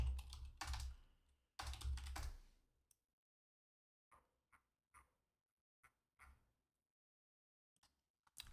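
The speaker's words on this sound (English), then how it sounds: "I have to type in PCE inflation." Quick taps on a computer keyboard while entering a search, a dense burst of keystrokes followed by sparse, isolated clicks in a quiet room.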